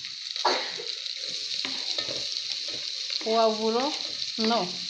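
Leek and celery with spices fry in a pan for a cassava dish, giving a steady, loud sizzle with soft stirring clatters and two short whining tones near the end.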